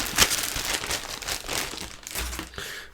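Plastic packaging bags crinkle and rustle continuously as vintage books are unwrapped, a close, steady crackling with a sharper crunch near the start.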